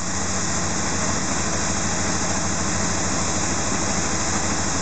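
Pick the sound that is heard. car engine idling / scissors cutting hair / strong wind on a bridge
car engine idling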